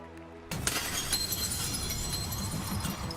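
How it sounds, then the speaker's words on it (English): Glass shatters suddenly and loudly, then bright tinkling fragments scatter and settle for a few seconds, heard alone without talk. "she shattered the glass on a massive screen"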